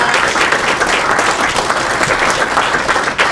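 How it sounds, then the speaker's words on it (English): Applause from a lunch crowd at a chamber of commerce luncheon, a dense, steady clapping that fills the room near and loud with no pauses, only a little voice underneath. "big round of applause to the Iroquois Club"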